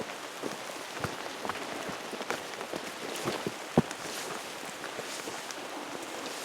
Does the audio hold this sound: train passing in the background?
no